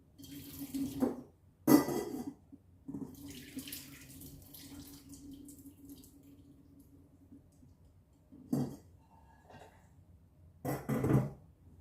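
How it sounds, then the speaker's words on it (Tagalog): Hot water from boiled green peas pours out into a sink in splashing bursts, with a steady trickle between them and a few clunks of a pot, close and fairly quiet. "I-drain natin ang tubig."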